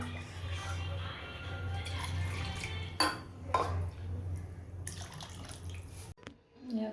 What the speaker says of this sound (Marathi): आता त्याच्यामध्ये पाणी टाकतो थोडंसं